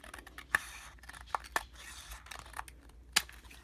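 Scissors snip through the backs of stamped card pieces, a handful of sharp, close cuts spaced irregularly against a quiet room, with no talking.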